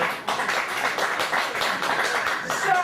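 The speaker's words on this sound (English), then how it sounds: "It still gets applause." Audience applause at a live performance, a dense, steady wash of many hands clapping that holds at an even, fairly loud level throughout.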